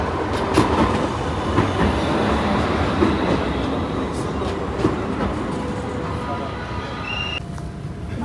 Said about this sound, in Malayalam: സെക്കൻഡ് വെച്ചിട്ടാണ് ഇവിടത്തേക്ക് ട്രാം വരുന്നത്